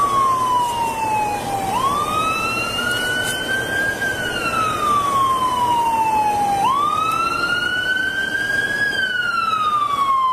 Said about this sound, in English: Here comes a guy, full lights and siren.